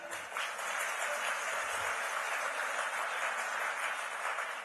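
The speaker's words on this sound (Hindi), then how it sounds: "एक बार इनके लिए जोरदार ताली।" Steady audience applause for members of the print, social and electronic media at a public gathering, even and sustained throughout without any voices over it.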